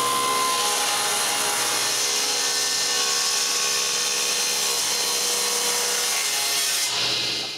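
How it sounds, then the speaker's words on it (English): A saw cuts excess wood off the ends of a workpiece with a loud, continuous whirring rasp that holds steady for several seconds, then stops abruptly. "Because the saw causes blowouts at the ends, I cut off the excess wood."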